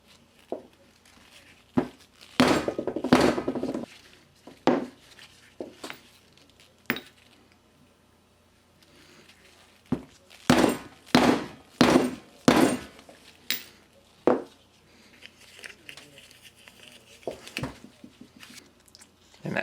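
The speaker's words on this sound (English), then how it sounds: "I'm going to take a 20mm socket and a plastic hammer and drive it in until it's flush" Sharp plastic hammer blows drive a 20mm socket into a Honda Accord power steering pump bore, ringing out in irregular bursts, some single and some in quick runs of four or five, metallic and close, with quiet pauses between.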